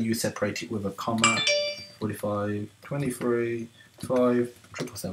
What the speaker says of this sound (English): Sorry about that was just my phone.